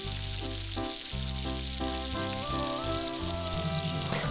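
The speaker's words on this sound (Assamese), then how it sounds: "ইয়াত দেখিবলৈ পাইছে পিঁয়াজ দি দিয়া হ'ল" Chopped onions frying in hot oil for a pork dish give a steady, soft sizzle beneath louder background music throughout.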